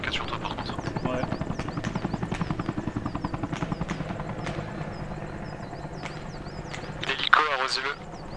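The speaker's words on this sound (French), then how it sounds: "L'hélico, arrosez-le." A helicopter in the video game Arma Reforger, its rotor beating in a fast, steady chop that runs throughout, with a sharp burst near the end and people talking over it.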